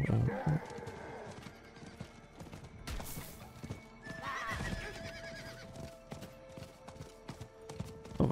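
Steady clip-clop of galloping hooves in Diablo IV runs throughout, with a brief whinny and some game music and effects layered underneath.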